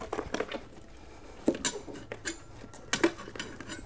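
Metal tire spoons clink and scrape while a motorcycle tire is levered onto its rim, giving a few sharp close ticks and knocks spread irregularly over quiet handling noise.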